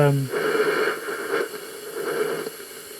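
A BC455 radio receiver powered by a dynamotor gives static and hiss with faint garbled transmission fading in and out, steady noise throughout, close by.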